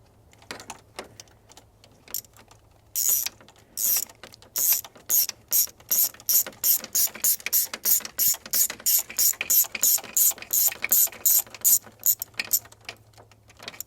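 A ratchet turning a spark plug into an Audi SQ5 3.0L TFSI turbocharged V6: after a few tentative clicks, a long run of crisp, rapid ratcheting bursts in a steady back-and-forth rhythm, close and loud.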